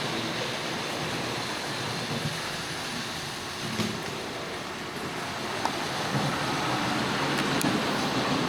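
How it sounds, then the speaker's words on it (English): A model train running on a museum layout at a railroad museum, a steady low rumbling and clatter heard throughout at moderate level, with faint small clicks and room noise and no talk. "And here comes the train again."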